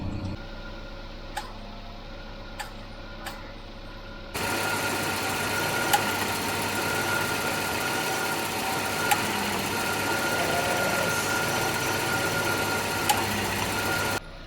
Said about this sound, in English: it's picking up the engine revs to compensate for the extra load on the engine from the compressor